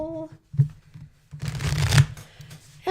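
A deck of tarot cards is shuffled by hand, a close, papery riffling burst lasting about a second after a brief tap, with a low hum beneath.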